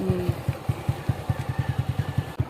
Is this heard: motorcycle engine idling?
yes